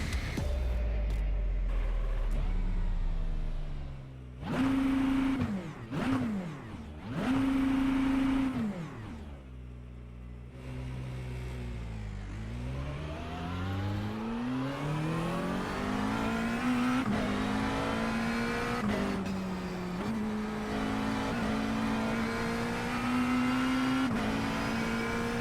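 GT3 race car in iRacing at Spa, engine revving hard through repeated upshifts and downshifts, a loud, raspy, close-up howl with rising and falling pitch sweeps and no voices.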